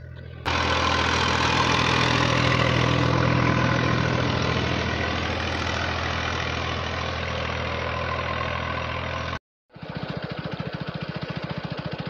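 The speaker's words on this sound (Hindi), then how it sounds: "ये आ गया ट्रैक्टर भाई।" A tractor engine running loud and close at a steady chugging idle for most of the stretch, cutting out briefly near the end before resuming with a rougher, pulsing rhythm.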